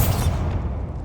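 Booming blast of the Bombarda blasting spell in Hogwarts Legacy, a loud low burst at onset that rumbles and decays over about a second, with no talk.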